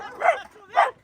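Dogs in a yard bark twice in sharp, close bursts about half a second apart, loud against a quiet background.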